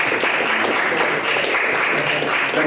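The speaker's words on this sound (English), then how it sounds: "the clapping was sarcastic" Audience clapping at a public meeting about a trail and rail line, dense steady clapping from many people, fairly loud and continuous, with voices mixed underneath.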